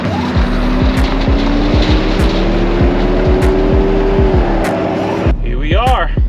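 Supercharged 427 engine with a large Whipple blower in a pink rock bouncer buggy, running on a tuning dyno: a loud, steady, rising roar with rapid rhythmic pulses, close up, then a sudden drop-off near the end as the revs fall.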